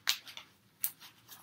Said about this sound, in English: I've been shuffling this whole time